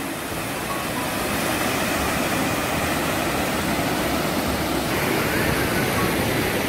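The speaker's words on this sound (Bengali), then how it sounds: "ঘাটশিলার রাজমোহনার ঝর্ণা।" Rajmohana waterfall at Ghatsila on the Subarnarekha river roars as a steady, loud, broadband rush of falling water, unbroken throughout with no voices.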